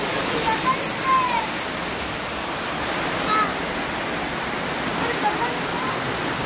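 Rushing water at Aya-aya Waterfalls in Lugait, Misamis Oriental, a steady broadband roar filling the whole scene with a few faint voices mixed in.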